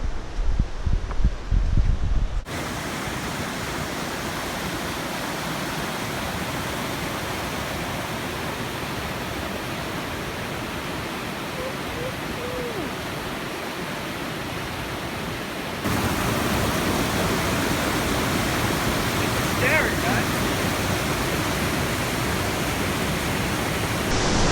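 A waterfall roars as a steady, broadband rush that fills the whole span, getting a little louder partway through, with no voices.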